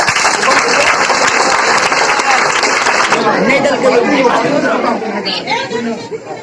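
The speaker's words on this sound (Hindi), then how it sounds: "ताली लगाओ" Schoolchildren clapping together during a fire department safety demonstration at a public school, loud close clapping mixed with excited chatter and young voices, the clapping thinning after a few seconds while talk continues.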